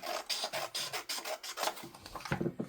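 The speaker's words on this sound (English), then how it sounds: "I'll probably have to use my trimmer and remeasure here" Paper trimmer cutting panels of junk mail for a trifold wallet craft, a series of short rasping slides repeating in quick succession, close and fairly quiet.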